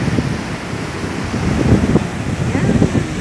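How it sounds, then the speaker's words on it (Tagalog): Strong waves surging and crashing at Sliema beach in Malta, a rough broadband roar with gusty wind buffeting the microphone, heard close and loud. "tapos bigla na lang hahampas yung malakas na alon"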